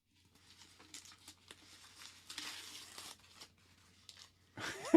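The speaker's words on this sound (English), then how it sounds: "Take the tape off." Sticky tape ripped off a beer can in several short tearing pulls and crinkles, close and fairly quiet, ending in a louder burst of handling noise.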